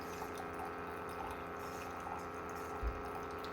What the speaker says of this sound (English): You just put one of those pods in, and it's already making coffee.